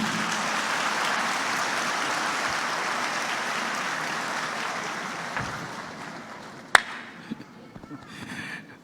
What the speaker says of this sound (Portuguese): Uma salva de palmas para o pastor Raimundo